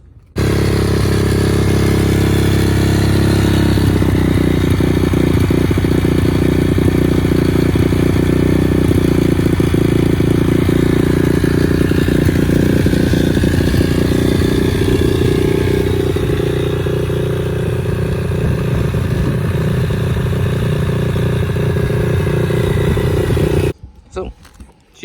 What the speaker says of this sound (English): give it a good run in that new oil, and see what Marvel Mystery Oil does wonders to this poor and abused dirt bike